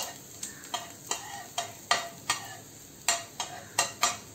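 Onion frying in a pan for a Goan-style mixed vegetable dish, stirred with a utensil that scrapes and clicks in a regular rhythm of about a dozen strokes over a soft, steady sizzle.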